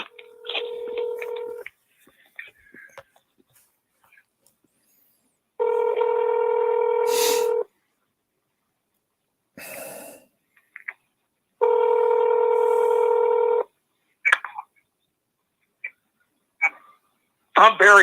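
A phone dialed automatically by Google sends out bursts of DTMF tones, mostly short beeps with two longer sustained tone blocks. Quiet gaps and a few clicks fall between them, and there is no talking over them.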